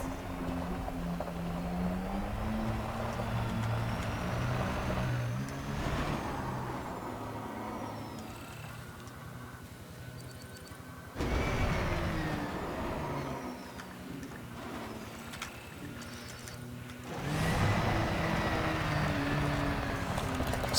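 An SRV ground vehicle rumbles across terrain in the Elite Dangerous Horizons game, a steady engine drone with shifting pitch and surging boosts, loud and continuous with no voices.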